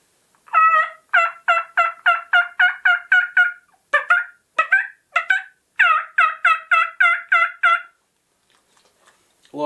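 Rapid repeated gobbling calls from a turkey call, bursts of quick yelps in three runs separated by brief pauses, loud and close with no talking.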